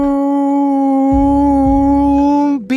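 A voice imitates a whale call with one long, loud, steady moaning tone held for almost three seconds, with a low rumble under the middle part, ending in a brief upward squeak.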